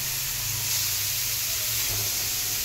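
Chicken vada frying in hot oil over a medium flame, a steady broadband hiss and sizzle that holds at an even level throughout with no voices.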